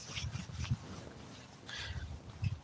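Dogs at the Highland Station Bark Park, an off-leash dog park in Saginaw, Texas, give faint yips and whimpers over outdoor background noise, with a few short, scattered calls.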